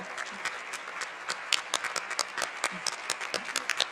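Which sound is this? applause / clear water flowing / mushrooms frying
applause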